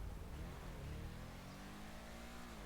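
A BMW M2 engine in GTA 5 Online holds a steady, loud revving drone with rising and falling pitch, close and continuous with no talk.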